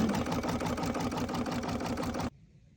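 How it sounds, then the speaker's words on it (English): An embroidery machine sews the top of a fabric-covered tin lid, with a fast, steady mechanical needle rhythm up close that cuts off abruptly near the end. "now it's going to sew the top of the lid"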